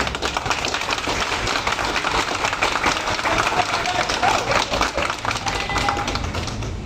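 A crowd applauds steadily, dense clapping running without a break, with voices mixed into the noise.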